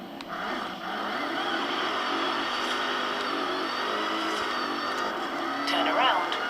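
Engine of a badly damaged car driving in a video game, a steady mid-pitched drone with slight revving rises, continuous and fairly loud, while a person talks over it.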